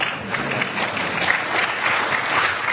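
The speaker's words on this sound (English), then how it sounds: "Not much Team B applause" Applause for Team B during a game-developer conference quiz show, a steady room full of clapping hands that holds at a constant level without talk.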